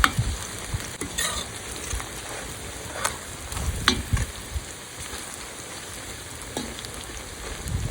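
Plov ingredients sizzle in oil inside a kazan over an outdoor campfire, a steady close frying hiss broken by occasional clinks and scrapes of stirring.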